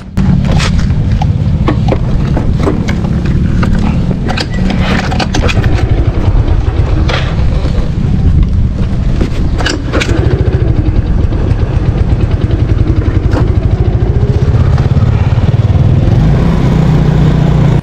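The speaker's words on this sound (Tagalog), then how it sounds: "humahagok yung karburador ng ating Mio Sporty" A Yamaha Mio Sporty scooter engine with a sputtering carburetor restarts and runs, a loud, close, uneven low rumble broken by sharp pops and crackles throughout.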